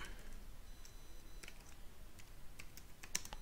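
Keys tapped on a computer keyboard while code is written, a sparse and irregular run of light clicks with a few sharper strokes, close and faint over steady low background hiss, with no talking.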